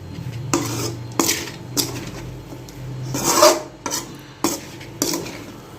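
Homemade egg noodles tossed with masala are stirred in a pan. A series of about eight close, rasping scrapes and knocks of a utensil against the pan come at an uneven rhythm, with no talk.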